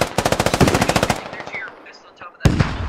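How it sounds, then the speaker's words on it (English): A rapid burst of about a dozen machine gun shots in the military shooter game Squad, loud and close, followed by a short pause and another sharp shot with echoing tail. "Who's that shooting?"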